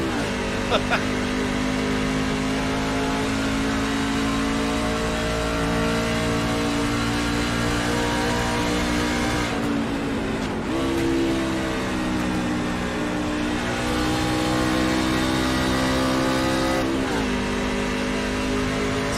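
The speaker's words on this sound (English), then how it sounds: "Vincent Short definitely downshifting in the corners here" Race trucks in a Nashville truck series race, engines droning steadily and shifting pitch as they downshift and rev through the corners, a continuous loud mechanical roar with rising and falling tones.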